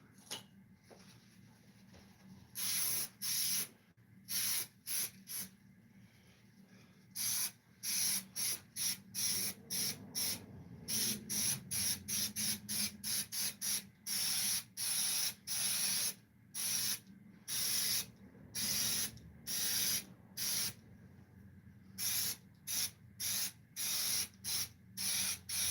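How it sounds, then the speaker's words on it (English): Short bursts from an aerosol spray can hiss onto metal rings in a workshop, first spaced apart, then in quick repeated pulses, close and crisp over a quiet background hum. "So let's get a little spray going."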